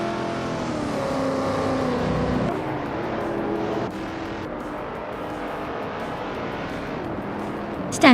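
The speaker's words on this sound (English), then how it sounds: "Naiba is driving a 1970 Ford Mustang Techie." A 1970 Ford Mustang race car engine in a racing video game, droning steadily with shifting pitch and a drop partway through, loud and continuous with no talk.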